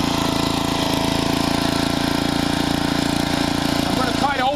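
A Generac 8838-0 portable generator engine runs with its choke about three-quarters closed. It gives a steady, loud, slightly rough drone for the whole stretch, with a brief shift near the end.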